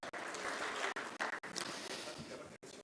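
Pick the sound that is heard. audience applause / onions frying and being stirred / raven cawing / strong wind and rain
audience applause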